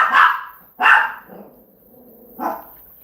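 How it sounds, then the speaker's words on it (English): A pet dog indoors, worked up at a bird outside, lets out three loud, sharp barks. Two come close together, then a pause before a softer third, with no talk. "My dog is over here ringing the bell because he sees a bird. He's going crazy."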